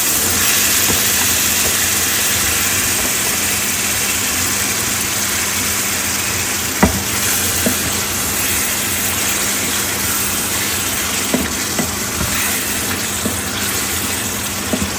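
Fish sizzles in a hot pan, a dense, steady, loud frying hiss lasting throughout with scattered small pops and crackles.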